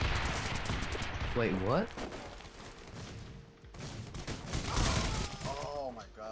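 Gunfire in a video game comes as sharp shots and bursts under people talking, with distant rattling fire and booms running through the scene.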